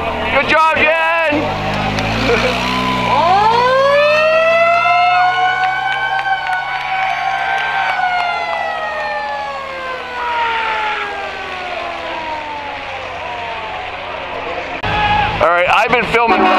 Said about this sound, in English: Look out, hit the sirens.